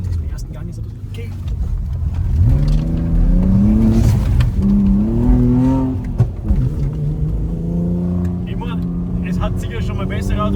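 Audi RS4 B5 engine revving hard while drifting on a slippery surface, loud and close with rising and falling pitch sweeps over a steady roar, and voices talking over it.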